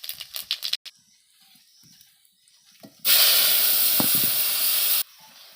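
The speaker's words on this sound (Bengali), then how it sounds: "ফোড়ন দিয়ে দিয়েছি আমি।" Whole spices and panch phoron, with cardamom, cinnamon, clove, dried red chillies and cumin seeds, hit hot oil in a pan. Quiet clatter comes first, then a sudden loud, steady sizzling hiss that runs about two seconds and cuts off sharply.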